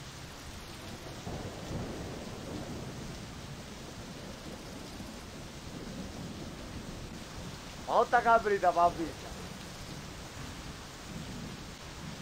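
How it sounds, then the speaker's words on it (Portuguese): Heavy rain pours steadily with low thunder rumbling beneath in the video game My Summer Car; a voice speaks briefly in Portuguese near the end over the downpour. "Nossa, tá chovendo demais,"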